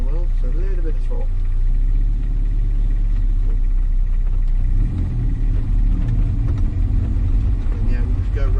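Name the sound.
car engine with a little throttle entering pit lane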